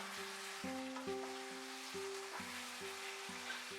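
Tomato chicken gravy cooks over a high flame, giving a steady close sizzle with stirring scrapes and clinks of a utensil recurring in a loose rhythm; no one speaks.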